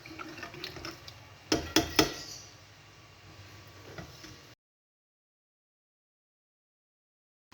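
Water is poured into a pot of curry with taro in a home kitchen, a soft splashing trickle with a few sharp clinks of the pot, fairly quiet, then silence.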